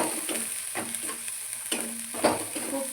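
Spicy masala stirred and roasted in oil in a pan for a Maharashtrian brinjal curry, a steady sizzle broken by repeated scraping strokes of a spoon at an uneven rhythm, close up, with no voices.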